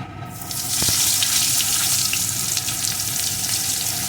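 Chopped onion sizzles in hot oil in a pan for a fish curry, a steady bright hiss after a brief quiet start, with no talking.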